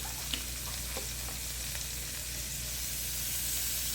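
Flour fries in fat to make a roux for gravy, giving a soft, steady sizzle heard close up. Faint stirring clicks sound now and then, with no talk over it.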